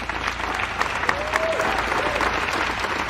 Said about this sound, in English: let's give another round of applause for our astronauts